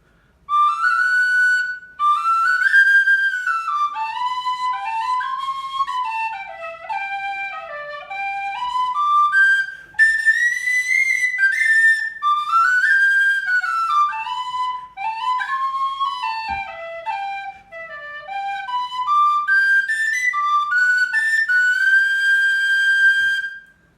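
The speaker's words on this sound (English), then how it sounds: "It's a brass body, plastic head, and we play a tune with it." A brass-bodied tin whistle with a plastic head plays a bright, continuous melody for about twenty seconds, with rising and falling phrases and a few brief breaths between them.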